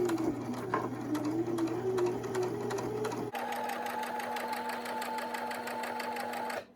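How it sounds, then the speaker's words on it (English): A sewing machine stitches along the short side of fabric face-mask pieces with elastic inside. It runs as a steady, rapid, close-up needle chatter over a motor hum, shifts pitch midway, then stops abruptly. "go ahead and sew along the short side of your 2 pieces with the elastic on the inside"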